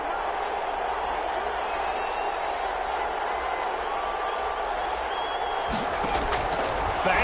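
Steady roar of a stadium crowd in a PS4 football game, a broad continuous wash of cheering that swells slightly near the end.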